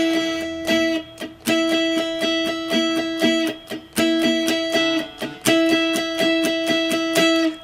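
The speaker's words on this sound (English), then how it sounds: "Now I'm striking these strings very gently with the pick." A guitar is strummed gently with a pick in a down-up pattern, playing an R&B-style chord in the manner of the Rocky theme. The strums repeat evenly and sound close and clear, with no talking.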